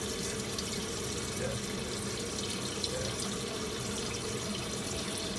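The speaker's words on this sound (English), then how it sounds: "Then now put in the ice cold purified water bath." Tap water runs steadily into an ice-cold purified water bath for chilled pork shabu-shabu salad, a continuous close hiss and splash of filling liquid throughout, with faint kitchen background.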